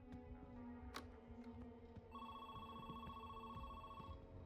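A telephone in a video game rings with a steady, bright electronic trill held for about two seconds over a low background hum, fairly faint and with no talk.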